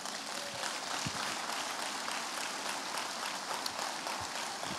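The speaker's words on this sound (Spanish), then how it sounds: "Dale un fuerte aplauso al Señor." A church congregation gives a strong round of applause, dense steady clapping heard at a moderate distance throughout the short stretch.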